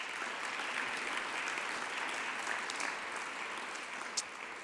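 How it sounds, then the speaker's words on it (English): An audience at an online safety event gives a round of applause, dense sustained clapping that stays steady and full for the whole stretch, heard alone without talk. "I think they deserve a round of applause."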